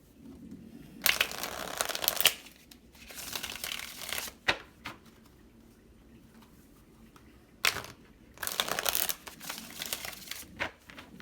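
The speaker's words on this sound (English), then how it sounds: "One more shuffle." Tarot cards are shuffled by hand in three separate bursts of crisp riffling and flicking, each lasting a second or two, with quiet pauses between them.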